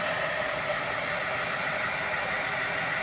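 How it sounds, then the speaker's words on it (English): A hair dryer blows a steady, even rush of air throughout, loud and constant with no breaks, drying a second coat of paint on a coffee-themed sign. "So I'm just going to dry this second coat real quick."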